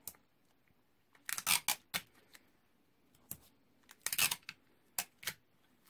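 Tape is pulled and torn to fix a paper stencil in place, heard as several sharp, close rips and crackles in quick bursts with quiet gaps between them.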